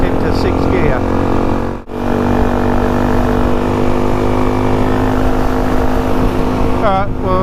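Suzuki DRZ400e dirt bike engine droning steadily and loudly on a test ride in a five-speed gear, with a short dip partway through and rising revs near the end.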